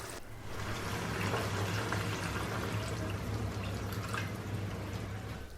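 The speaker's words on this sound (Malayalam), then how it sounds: "ഈ ഒരു സമയത്ത് നമുക്ക് 2-ാം പാൽ ചേർത്ത് കൊടുക്കുക." Thin second-press coconut milk pours steadily into a boiling Kerala-style beef stew, a soft continuous liquid stream with faint bubbling that runs for several seconds at moderate volume.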